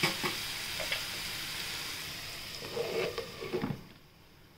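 Spring onions sauté in a pan for a Marathi-style bhaji, a faint soft sizzle with a few scraping stirs toward the end.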